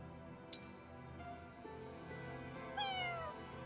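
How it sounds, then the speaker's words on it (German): A kitten in the video game Fire Emblem Engage gives two short, soft meows, the second rising and then falling, over a quiet background hum with no talking. "Kätzchen. Nimm ich auch noch mit."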